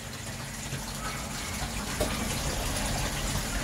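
Water gushing steadily from a koi tank filter as its valve is opened about a quarter of the way for a media flush, a continuous rushing flow at moderate loudness, alone.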